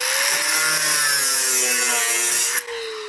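Grinder slicing a slit through metal, a loud, steady high-pitched whine with a harsh gritty rasp, its pitch drifting slightly as it cuts, then cutting off abruptly near the end.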